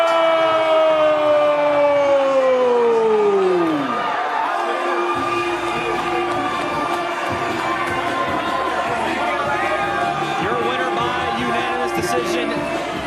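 A boxing arena crowd cheers and roars after a fight decision, a broad sustained wash of noise under a falling siren-like tone at the start, with voices talking over it.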